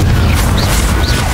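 Confringo explosion spell cast in the Hogwarts Legacy video game, a loud, sustained booming blast with dense roaring rumble and brief whistling sparkle tones on top.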